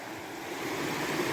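A small, crystal-clear creek flows with a steady, soft rushing wash, continuous and fairly near, with no voices.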